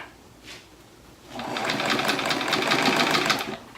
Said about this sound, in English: You could either back stitch it or just sew over it for about an inch.